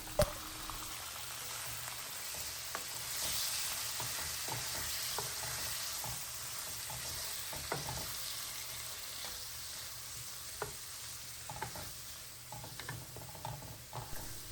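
Onions sautéing in a pan for bistek na pata as the marinade sauce goes in: a steady sizzling hiss with scattered stirring scrapes and clicks, close and continuous with no voices.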